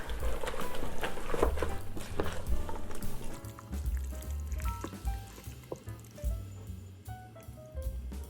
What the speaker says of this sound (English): I'm gonna add some apple cider vinegar.